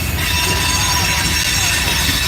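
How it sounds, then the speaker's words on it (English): A Norfolk Southern freight train rolls out of a rail yard, its wheels squealing steadily over a continuous loud rumble of railcars passing close by, with no talk. "Train number A43 rolling out of the yard."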